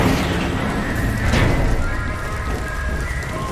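Storm rain and thunder in the video game Crysis 3 Remastered on Xbox Series X: a dense, loud, steady rush of rain with a low rumbling swell near the middle, and no voices.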